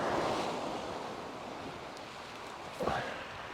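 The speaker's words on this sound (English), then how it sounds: "That wind's unforgiving though." Cold winter wind gusting across Chesil Beach, a steady broadband roar with surf wash underneath and a stronger gust near the end, no talking.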